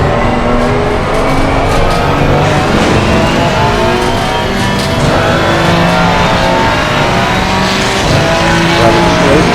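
Race car engine in Assetto Corsa Competizione, a loud continuous drone with shifting pitch as the car accelerates and changes gear, steady throughout with no talk.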